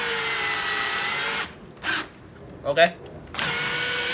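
A Makita cordless drill, set to slow first gear, whirs in short loud bursts as it drives heavy screws, broken by a gap and brief clicks, with someone speaking nearby.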